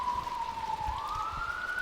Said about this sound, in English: I could sense the cacophony of the sirens in the distance